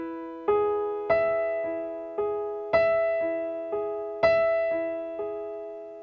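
Solo piano plays a slow, sparse passage, eight spaced notes and chords ringing over held tones, close and clear with no talking.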